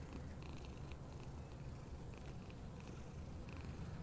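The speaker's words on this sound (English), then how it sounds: "I want to find that cat." A cat purring in an abandoned camp, a faint low rumbling purr close by, continuous and quiet with no voices.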